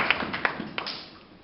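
A church congregation claps in a few quick, scattered hand claps that soften and fade out within a second and a half.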